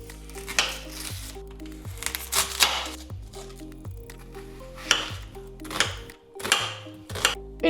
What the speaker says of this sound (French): On vient découper d'abord pour commencer l'oignon.